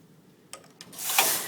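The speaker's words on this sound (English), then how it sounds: "we hold the knitting down under the needles and we push them forward to E again" Needles on a domestic knitting machine are pushed forward by hand while the knitting is held down beneath them, giving a couple of soft clicks followed by a brighter sliding metallic rasp, close and fairly quiet.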